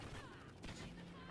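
Rapid gunfire in the multiplayer shooter Call of Duty: Ghosts, a burst of quiet, distant-sounding shots running under faint game ambience.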